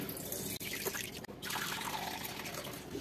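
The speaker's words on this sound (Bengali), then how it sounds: "এবার ডাবের পানিটা ছেঁকে নিচ্ছি।" Coconut water strained through a sieve drips and trickles softly into a container, a faint, close patter with a couple of brief gaps.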